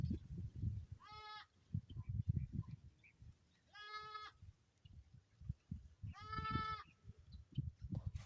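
A goat on a provincial farm in Pangasinan bleats three times, each call a clear, quavering cry spaced a few seconds apart, over low rustling and handling noise nearby.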